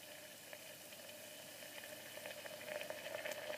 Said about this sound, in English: It just seems to just keep boiling quite ferociously.